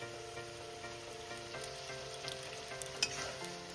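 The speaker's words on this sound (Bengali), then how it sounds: "কচুটা আমি কিছুক্ষণ কষিয়ে নিয়েছি" Taro leaves stir-frying in a pan with a ground paste of coconut, mustard, poppy seed and green chilli, giving a steady soft sizzle with faint scraping stirs throughout.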